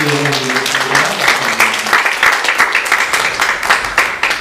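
Congregation applauding during a Sunday church service, a dense steady wash of many hands clapping that fills the room, with a voice briefly audible at the start.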